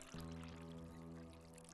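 Sake pours steadily from a bottle into a cup, making a continuous faint liquid trickle with a low gurgling tone beneath it, close by and with no talking over it.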